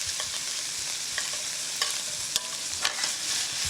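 Shrimp fry in a hot pan with a loud steady sizzle broken by a few sharp clinks and scrapes from a spoon turning them over, heard close with no speech.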